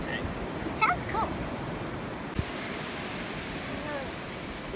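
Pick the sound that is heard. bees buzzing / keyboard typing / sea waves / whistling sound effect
sea waves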